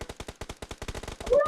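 Rapid automatic gunfire in the mobile game PUBG Mobile, about a dozen sharp evenly spaced shots in a fast burst, loud and close, with a brief game tone at the end.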